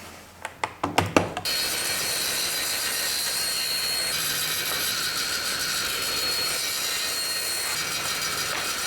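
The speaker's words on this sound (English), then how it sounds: "The first thing I will do is cut the 2x4." A power saw cuts through a 2x4 wood board at a workbench: a few sharp taps, then a loud, steady high-pitched whine of the blade biting through the lumber, sustained close to the end with no voices.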